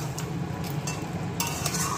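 Chicken kosha sizzles in a pan as a spoon stirs it, a close, steady frying hiss broken by a few sharp scraping strokes against the metal, with no talk.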